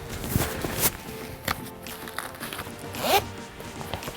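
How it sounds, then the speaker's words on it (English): Back zipper on a wetsuit being pulled, a few quick raspy zips and rustling fabric handling in between, close and fairly clear, with no voices. "there's a zipper on the back"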